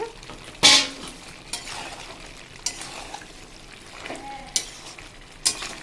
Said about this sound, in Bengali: আবার দশ মিনিট আমি কষাবো